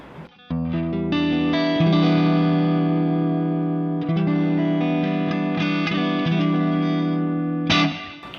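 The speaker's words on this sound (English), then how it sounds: "This is just the preamp, some reverb, and the clean channel." Electric guitar through a Two Notes Le Clean preamp on its clean channel with reverb: a strummed chord rings out, then sustained chords change twice, bright and full with a reverb tail as they fade.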